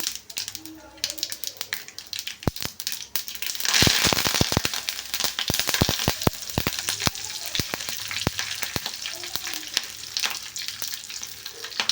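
Garlic and chilli mixture sizzles in hot oil as it is stirred, giving a close, continuous crackle with dense sharp pops that swell partway through and keep going steadily.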